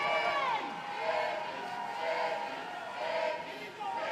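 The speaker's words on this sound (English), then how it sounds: "You can hear the Calvin team cheering on their C relay" Calvin swim team members cheer their C relay at the 2024 MIAA swimming championships, a continuous indoor crowd of shouts and whoops rising and falling with bright tonal yells across the whole stretch.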